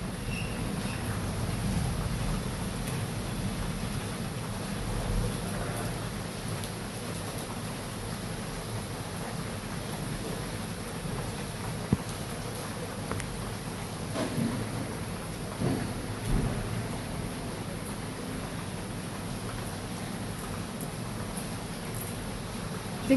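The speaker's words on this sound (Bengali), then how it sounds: "মেঘ ডাকছে, ঝম ঝম করে বৃষ্টি পড়ছে।" Heavy night rain pours down steadily in Bengaluru, a dense, unbroken roar that holds close and loud throughout, with thunder only faintly suggested beneath the downpour.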